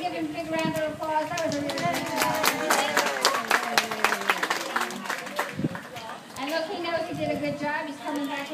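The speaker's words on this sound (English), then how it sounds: "Round of applause." An audience at a dolphin show breaks into scattered, crackling applause that swells in the middle and then thins out, with a presenter's voice talking over much of it.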